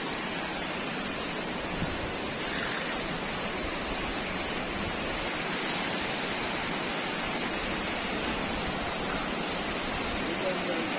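Waterfall at a quarry pond, a steady broadband rush of falling water that holds at a constant level throughout, fairly distant and unbroken, with no voices standing out.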